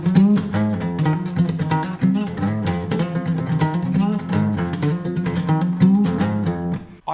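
Guitar playing the outro riff of a song, a repeating strummed and picked pattern with rhythmic chord accents, close and fairly loud, ending abruptly, with no talking.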